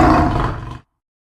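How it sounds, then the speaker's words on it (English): A deep, loud roar bursts out close by for under a second, then cuts off abruptly into silence. "That's the sound of a bear."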